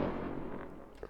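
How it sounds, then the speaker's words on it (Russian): Fireworks launched in a video game crackle and pop in a short burst of rapid bangs that fades over about a second, with no talk. "Это я запустил фейерверки."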